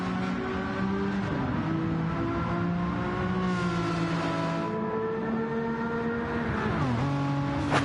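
Gran Turismo racing car engine from the Gr4 class at the Sardegna circuit, a steady loud drone with smooth harmonic pitch shifts as revs rise and dip through gear changes, with a brief drop near the end.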